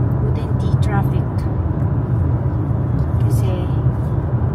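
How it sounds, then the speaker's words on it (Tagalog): Steady road traffic rumbles along with cars passing, a continuous low engine and tire drone heard from inside or beside a vehicle, with faint brief sounds over it. "Traffic"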